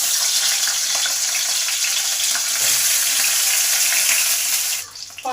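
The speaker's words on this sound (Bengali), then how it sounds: "এবার মাছের মাথাটা আছে, এটাকে ভেজে নেব।" A fish head fries in hot oil with a loud, dense, rushing sizzle close by. The hiss drops away sharply near the end, leaving a few softer crackles.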